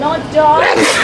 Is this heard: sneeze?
yes